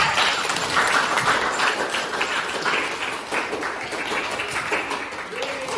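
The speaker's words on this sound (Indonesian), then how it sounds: "tepuk tangan buat Mbak Afriza" Students in a classroom clap for a classmate, a lively patter of many hands that tapers off over several seconds, with voices murmuring in the room beneath it.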